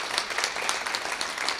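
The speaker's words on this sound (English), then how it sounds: "A round of applause for him." An audience at a candidate forum for a primary election claps for a guest, a short burst of dense, steady applause without any talking over it.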